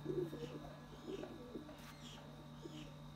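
Soft, low pigeon coos from racing pigeons repeating at intervals over a steady background hum, faint and somewhat distant.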